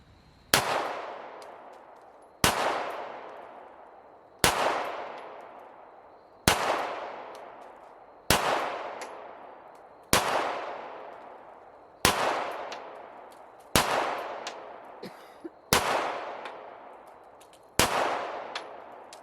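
A pistol fired one-handed lets off ten evenly spaced shots about two seconds apart, each a sharp crack that rings out in a long decaying echo.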